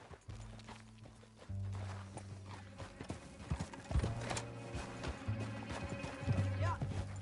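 Horse hooves galloping in Red Dead Redemption 2, a rapid clip-clop running throughout, moderately loud over low rumbling game music and ambience.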